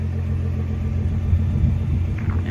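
A 2009 Nissan R35 GT-R with a 600 hp full bolt-on setup gives a steady, deep engine rumble, close and continuous, with no talking.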